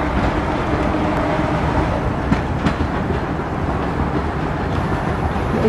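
A miniature railway train rumbles steadily along its track at Perrygrove Railway, a continuous close mechanical running noise with faint rhythmic clicks and no voices.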